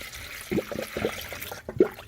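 Fluid is poured through a funnel into the system of a 1978 Ford Courier, a soft close trickle with irregular gurgles and glugs as air is pushed out.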